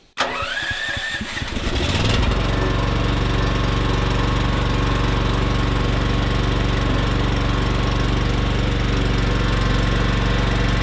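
An electric-start generator cranks briefly and catches, then settles into a steady, loud, droning run for off-grid battery charging in deep winter cold around -30.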